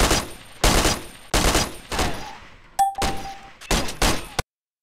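Several loud bursts of automatic gunfire in the video game ARMA Cold War Assault, about six separate volleys with short gaps, one followed by a ringing metallic ping, then sudden silence.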